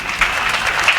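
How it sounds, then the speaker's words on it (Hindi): A brief burst of dense applause rises from the audience at a Hindi kavi sammelan comedy poetry event, steady and close for about a second. "तालियां भी पीछे तक बजती रहनी चाहिए।"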